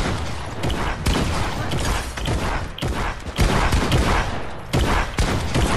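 Rapid bursts of gunfire in a Fortnite match, loud, sharp volleys that come in quick clusters, separated by brief gaps, with no talk over them.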